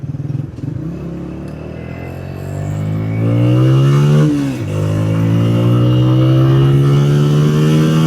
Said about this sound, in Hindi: हल्का सा मैंने थ्रोटल दिया बाइक को